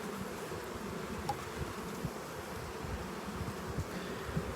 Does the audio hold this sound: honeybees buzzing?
yes